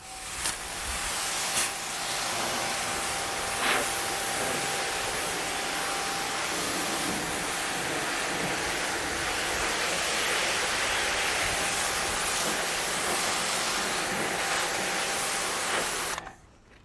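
AR Blue 2,300 PSI electric pressure washer spraying water, a steady loud hiss of spray sustained for about sixteen seconds before cutting off abruptly, with no voices over it.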